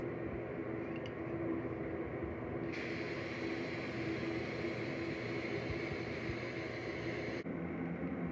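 An aerosol deodorant spray can hisses in one continuous, steady blast of about five seconds, then cuts off abruptly.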